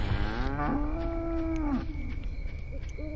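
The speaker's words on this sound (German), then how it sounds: "11 Kühe." Cows moo in the horror video game The Cows are Watching, one long, loud, drawn-out bellow rising and falling in pitch, followed by quieter lowing against a steady background hum.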